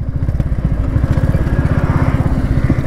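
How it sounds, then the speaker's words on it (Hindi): Royal Enfield Hunter 350 and Bajaj Pulsar RS 200 motorcycles in a drag race, one loud, close engine note pulsing steadily with a rapid throbbing rumble throughout. "पहले भाई तुम्हारा हंटर चलाने वाला और उधर भाई चलाने वाला अपने RS, तो देख लेते हैं क्या ड्रैग रेस रहती है"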